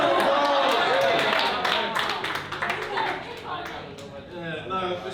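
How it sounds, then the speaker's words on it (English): Audience clapping at a stand-up comedy show, loud at first and then fading as chatter and a voice take over. "Come on, big round of applause."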